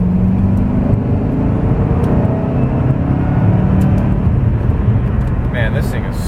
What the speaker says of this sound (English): Let's see if we can roll on the throttle here.